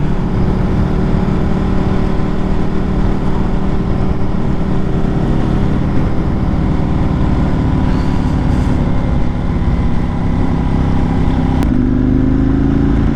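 A Ducati 1098 superbike ridden at speed, its engine a steady loud droning roar held throughout with slight shifts in pitch and wind rush, no voices.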